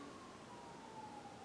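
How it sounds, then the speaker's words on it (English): A distant siren wails faintly under a low background rumble, its tone sliding slowly downward. "Sorry if you hear the sirens."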